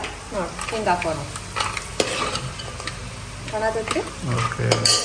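Peanuts stir-fried in a pan for churumuri give a steady sizzle under repeated scraping and rattling of a spatula against the pan, close and busy, with faint speech now and then.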